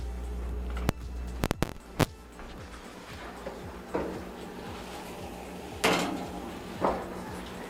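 Kitchen handling around an oven as a meatloaf goes in: several sharp clacks and knocks close together early on, then scattered thuds and a dull rushing swell near the end, with no voices.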